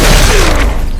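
A loud, dense volley of gunfire booms in a Chainsaw Man video game, a single heavy blast that fills the whole second and fades slightly.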